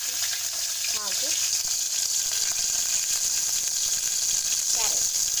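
Pea, bean, carrot and potato pieces sizzle and fry in a hot pan without water, a steady loud crackling hiss with a couple of brief scraping stirs.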